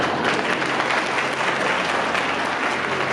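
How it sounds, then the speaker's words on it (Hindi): A seated audience at a Hindi-language talk breaks into applause, a dense, even roar of many hands clapping that stays steady and fairly loud for the whole stretch. "तालियां तो उठेगी"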